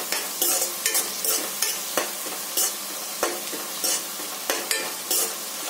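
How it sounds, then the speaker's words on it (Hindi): Suran (elephant foot yam) frying with turmeric powder in a pan gives a continuous sizzle, with regular spoon scrapes and stirring strokes coming about every half second, close and clear with no voices. "इसी में मैं हल्दी पाउडर को ऐड कर दूंगी। फिर इसको फ्राई करूंगी।"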